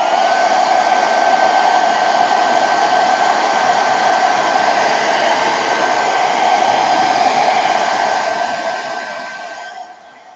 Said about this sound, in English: I'm going to dry this really quick with a hair dryer.